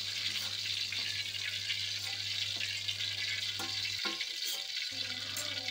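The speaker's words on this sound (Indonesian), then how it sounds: "goreng cabainya tuh cukup sampai cabainya layu aja ya" Chili peppers frying in a pan with garlic, a steady close hiss and crackle of hot oil sizzling throughout, with a few scraping stirs and a low hum that drops out near the end, no talking.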